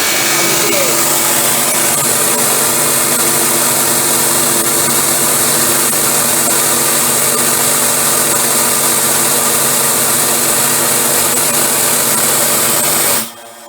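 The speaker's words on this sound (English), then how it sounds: "while the machine is running with the right size jet in place" Pressure washer engine and pump running continuously with a PA VB9 unloader fitted in a trapped setup, a loud, steady mechanical whine and hum that cuts off abruptly at the very end.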